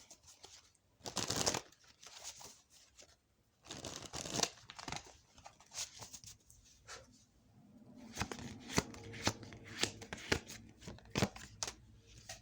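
Tarot cards being handled and shuffled during a love reading, with crisp papery crinkles and riffling bursts coming in uneven clusters, close and fairly quiet, with no talk.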